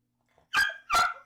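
A dog barks twice close by, two sharp loud barks in quick succession with silence around them.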